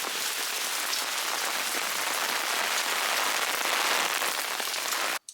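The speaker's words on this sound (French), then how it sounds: "Là j'ai la fenêtre devant moi et en fait il y a du vent et de la pluie" Rain and wind heard through a window in Canada, a continuous dense hiss of drops on surfaces at moderate level that cuts off abruptly right at the end.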